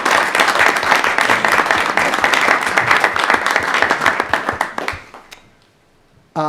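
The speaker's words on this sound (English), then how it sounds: "So if we could just have a round of applause for our football All-Stars." Audience at a school committee meeting breaks into a loud, sustained round of applause for the football All-Stars, dense clapping that fades out near the end before a brief burst resumes.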